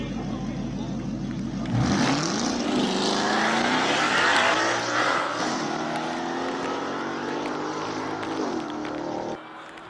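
A Shelby race car on a hill climb at the Speed Classic King of the Mountain in Cape Town, its engine rising from a low idle into a loud revving acceleration and holding a hard, sustained roar before cutting off.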